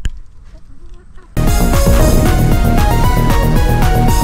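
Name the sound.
rooster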